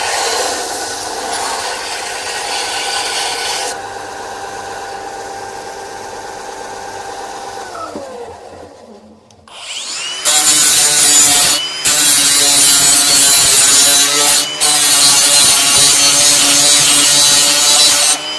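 A power tool grinds and whines against the top edge of a surfboard in a surf shed, loud and close, with a steady buzzing run that pauses briefly and then resumes harsher and louder.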